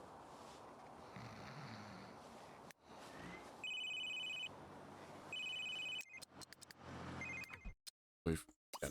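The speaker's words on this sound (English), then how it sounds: "We've got a phone call." A telephone rings in The Sims 3, a bright electronic tone repeating in two clear bursts with game ambience and short effects around it.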